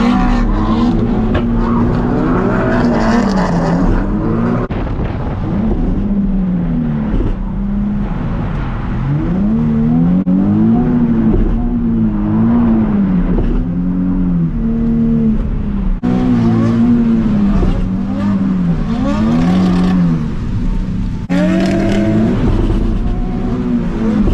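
A car with a loose differential drives under load with engine revs rising and falling, tires and drivetrain noise loud and continuous, with repeated surges as throttle goes on and off.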